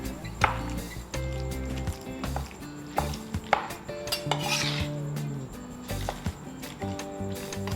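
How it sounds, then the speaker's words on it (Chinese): Raw shrimp chopped and pressed under a knife blade into paste, giving repeated close scraping and tapping of metal against a board, with a soft tonal background running beneath. "我们先把虾切碎，再用刀像这样压一下，一点一点的压"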